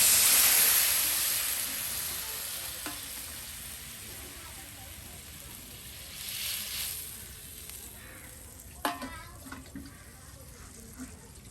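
Water poured into a hot pan while cooking traditional Bengali village sweets, a loud hissing sizzle at first that gradually fades to a soft steady steaming, with a few clinks of utensils later.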